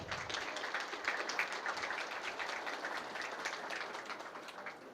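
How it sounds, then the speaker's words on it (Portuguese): At a book launch for a work on protective barriers, an audience welcomes the author with fairly quiet, dense applause, a continuous crackling wash of many hands that stays level throughout with no voices over it. "Palmas para ele"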